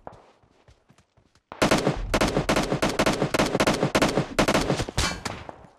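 Bursts of AK rifle gunfire in PUBG Mobile on the desert map, loud, close rapid volleys with short gaps after a quieter stretch of faint shots.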